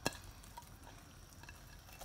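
Spoon stirring black chickpeas mixed with masala spices, onion and tomato in a bowl for chaat, soft scraping and light clinks, one sharper knock at the start, steady and quiet, no talking.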